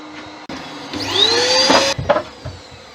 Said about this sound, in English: this extractor is kind of loud